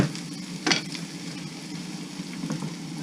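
Ground sirloin, sausage and a whole large onion browning in a pan, a close, steady sizzle with a brief stir or scrape early on, no talk.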